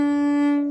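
A violin holds a single bowed note, close and clear, sustained alone for under a second before cutting off.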